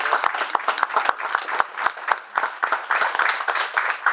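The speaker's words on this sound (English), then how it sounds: "I ask you to give him a round of applause" Applause at a Masonic lodge officer installation, a moderate crowd clapping in uneven bursts with individual hand claps standing out, fairly close and continuous through the short stretch.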